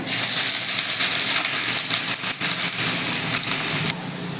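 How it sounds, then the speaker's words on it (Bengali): Finely chopped medium onion frying in hot oil with bay leaves and a dried chilli for dal fry, a loud steady broadband sizzle that holds throughout, dropping slightly near the end. "এখানে একটা মাঝারি সাইজের পেঁয়াজ ছোট ছোট করে একদম কেটে নিয়েছি দিচ্ছি"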